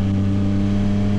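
A 2024 Yamaha MT-09 SP motorcycle engine pulls hard under acceleration, a loud, close, sustained droning growl with strong steady harmonics and no pause.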